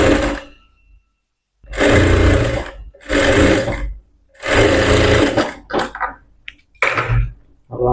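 A blouse being stitched on a sewing machine, heard as several loud bursts of machine running separated by short pauses, with some brief clatter near the end.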